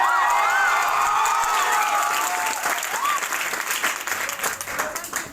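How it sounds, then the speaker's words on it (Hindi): An audience claps loudly and steadily for a police officer speaking on stage, with scattered shouts and whoops in the crowd as the applause slowly thins out. "जो आप तालियां मेरे लिए बजा रहे हो"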